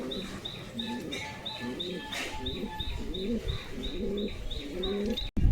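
An old pigeon coos in repeated low, rolling phrases at close range, with a steady high chirping of other birds running above it throughout.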